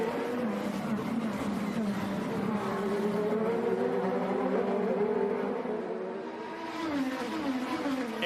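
IndyCar race cars drive through the Detroit Grand Prix street circuit, a steady loud engine drone with rising and falling pitch as several cars pass, continuous throughout with no talk.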